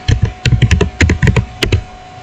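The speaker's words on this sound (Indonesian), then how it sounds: "kita ketik IP neighbor print" Quick bursts of close, crisp keystrokes on a computer keyboard as a network router command is entered, irregular clusters of clicks with short pauses, ending in a brief silence, no talking.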